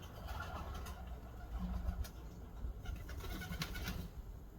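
Pigeon cooing in soft, low repeated calls, quiet and somewhat distant, over a faint background hum of traffic.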